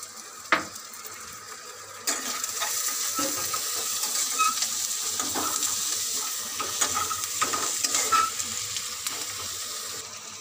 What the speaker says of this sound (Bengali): তো পেঁয়াজটা ভাজা হচ্ছে, একটু নুন দিলাম